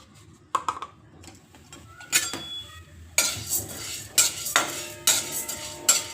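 Chana dal roasting dry in a pan while being stirred, bursts of scraping and metallic clinks of a spoon against the pan, loud and close, with a quieter hiss between strokes.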